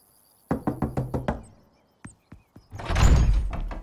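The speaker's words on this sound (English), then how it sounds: "Wait, should we knock? Let's knock." Five quick, firm knocks rap on a door in an even rhythm, followed by a pause, a few scattered thumps and then a louder noisy rush of movement, all close and without speech.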